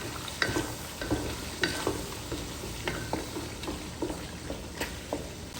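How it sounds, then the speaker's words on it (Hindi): Whole spices and dried red chillies roast in a pan for palak gosht, a close, steady sizzle broken by rhythmic spoon scrapes and taps about every half second. "अब इसकी हमने देखे कर लेनी है भुनाई मिसालों के साथ"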